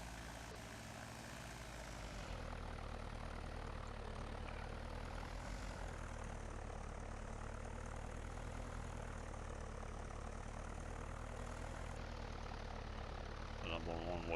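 A small low-wing propeller plane with a bubble cockpit drones steadily on a runway before takeoff, its engine rising slightly in pitch after a couple of seconds, loud and continuous, with faint talk underneath.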